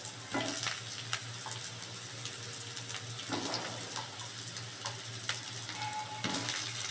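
Potato pieces fry in hot oil in a pan, giving a steady soft sizzle with a few brief clatters and splashes, close and fairly quiet, with no talk.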